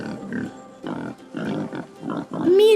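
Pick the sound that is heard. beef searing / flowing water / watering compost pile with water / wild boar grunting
wild boar grunting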